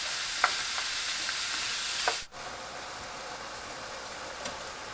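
Ground beef, onions and bell peppers browning in a pan give a steady, soft sizzle, with a few faint scrapes and taps of stirring and one brief dip midway.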